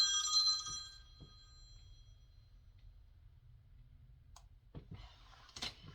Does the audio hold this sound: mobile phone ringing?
yes